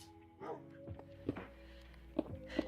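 A dog named Captain gives a few short, faint barks spaced across the moment, heard in a quiet room beside a steady low background tone.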